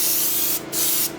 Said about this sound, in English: So I'm just going to start spraying this.